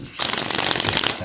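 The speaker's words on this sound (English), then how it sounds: "I love to shuffle the hell out of my cards." Tarot cards are shuffled hard and fast, a dense, loud riffling burst of papery flutters lasting about a second, with no voice over it.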